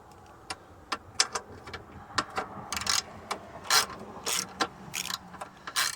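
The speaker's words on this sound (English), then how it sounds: "so I'm just using an extension with a swivel for now" Ratchet wrench with an extension and swivel working on the bolts of a 1986 90hp Mercury outboard motor, with quick bursts of sharp clicking in an uneven rhythm, close and clear, and no talk.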